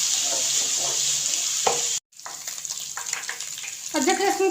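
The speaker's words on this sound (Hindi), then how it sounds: "इसको हम 1 मिनट फ्राई करेंगे ताकि ये पक जाए" Ginger garlic paste frying in a pan for a potato karahi, a steady close sizzle broken by a brief gap, then stirring scrapes and renewed frying.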